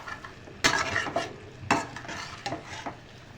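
Goat liver curry with tomato being stirred and sautéed in a pan, a low sizzle broken by several scraping strokes of a spoon against the metal at an uneven rhythm.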